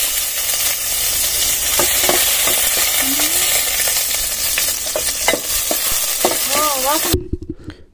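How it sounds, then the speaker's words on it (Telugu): Onions frying in hot oil in a pan, a loud continuous sizzle with scattered stirring clicks and scrapes, over faint background music, cutting off near the end. "ఇంకా ఆయిల్ వేసి ఇంకా ఉల్లిపాయలన్నీ వేయించుకోవాలి."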